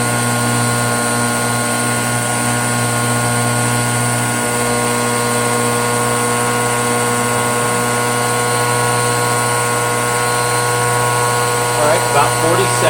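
Rainbow D3C vacuum with a power nozzle running on high, a loud, steady whining drone with strong sustained tones that holds unchanged throughout, with no voices.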